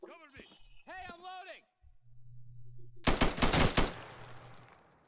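A voice speaks, then a burst of rapid, loud gunfire in the video game Insurgency rattles for about a second before fading into a hissing tail, a hum running underneath.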